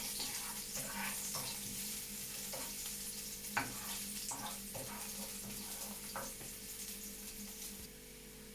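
Garlic fries in a pan of oil with a faint, steady sizzle, joined by soft intermittent stirring and scraping clicks close by, and no talking.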